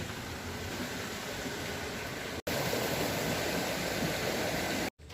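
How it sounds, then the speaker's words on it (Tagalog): A small stream at a paper tree fairy walk resort, its water flowing with a steady, close broadband rush that fills the whole clip without pause. "Isa po pala yung batis or maliit na sapa."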